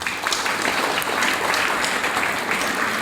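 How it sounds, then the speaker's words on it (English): Sustained applause from a crowd at a Class X graduation day at PMHS, Diphu, honouring the graduating students; steady, dense clapping fills the whole moment with no pauses. "let us give them a big round of applause"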